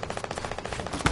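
Rapid automatic gunfire in a PS4 shooter, a fast burst of close, evenly spaced shots ending in a heavier blast.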